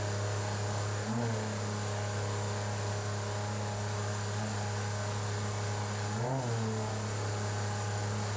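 Solar 470 SJT jet boat running up the Barriere River, its engine holding a steady droning hum with two brief rising surges in pitch as the throttle is worked, constant and fairly close.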